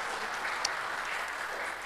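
A brief burst of steady clapping from a church congregation during a sermon, dense and fairly close, lasting just a couple of seconds.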